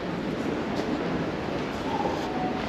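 Steady rumble of a train in motion in Japan, a continuous broadband roar with no voices, close and fairly loud throughout.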